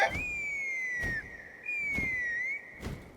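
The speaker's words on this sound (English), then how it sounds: "That sounded like a whistle." A whistle in the video game Genshin Impact, two long sustained slightly falling tones in a row, clear and close, separated by short gaps and light clicks.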